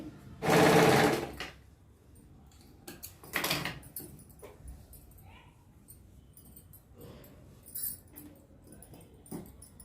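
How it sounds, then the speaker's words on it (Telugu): A sewing machine stitching a designer dress runs in two short, loud bursts of fast whirring stitches, separated by quieter handling noises, faint clicks and a brief low voice. "ఇటు సైడ్ కూడా స్టిచ్ వేసేద్దామండి"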